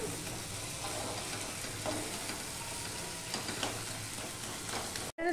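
A spatula scrapes and presses chana masala into a paste in a frying pan, with steady sizzling and soft stirring scrapes throughout, moderately close and without speech.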